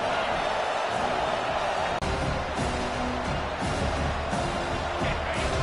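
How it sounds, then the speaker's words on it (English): Dense, roaring football stadium crowd cheering without letup through second overtime of a college game, a broad sustained wall of noise from many voices with occasional swells. "this crowd is turning it up a notch"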